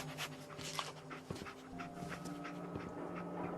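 Dogmeat, the dog companion in Fallout 4, pants rhythmically and close by in short breathy bursts, with some sniffing, alone and fairly quiet.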